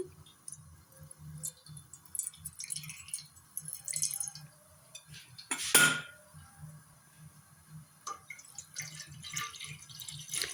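Water poured into a cooking pot for kheer in a home kitchen, a soft trickle mixed with clinks and taps of metal pots and utensils, fairly quiet and close, with no talking.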